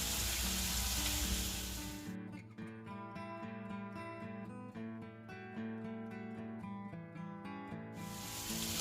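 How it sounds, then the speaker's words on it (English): Meatballs fry and brown in a pan with a loud, close sizzle at the start and end, while music plays over the middle and partly covers the frying. "You can see now the meatballs are all starting to go nice and brown."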